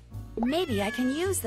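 In the Nancy Drew adventure game Lights, Camera, Curses, a cat meows in a few drawn-out, wavering cries while a voice talks over it in the foreground.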